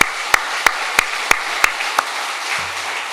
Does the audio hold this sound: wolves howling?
no